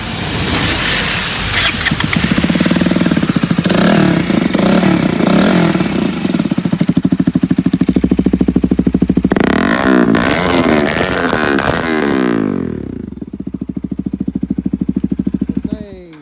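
A motorcycle with its silencer removed revs hard, the raw, loud exhaust rising and falling in repeated bursts before settling back toward idle, on a group ride of several bikes in heavy rain.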